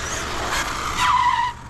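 An 80 mph electric RC truck skids in one brief, bright tire squeal that rises and holds for about half a second over steady motor whine, close by and fairly loud.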